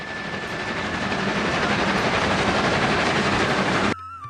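A train near Kolkata, India, rushes along the rails with a dense, steady roar and rattle that cuts off abruptly near the end.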